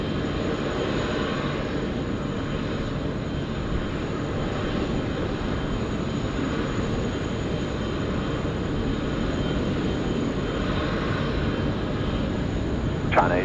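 A Qantas airliner takes off from runway 16 right at Sydney Airport, with a broad, steady jet roar holding at an even level throughout.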